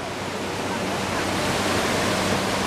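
A steady, loud roar of Niagara Falls fills the clip evenly, a broad continuous wash of rushing water noise with no voices standing out.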